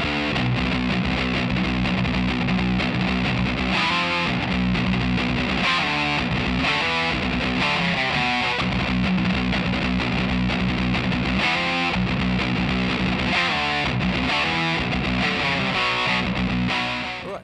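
Distorted electric guitar plays verse 2 of a song, loud, continuous chugging on the low string with driving repeated notes throughout.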